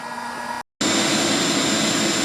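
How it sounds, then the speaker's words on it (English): A household vacuum cleaner, rigged as a blower for a homemade aluminum foundry, roars with a loud steady whine and airy rush, cut by a sharp moment of silence before surging back stronger. "vacuum cleaner, so we put it on the blower, add a little more pipe for heat resistance"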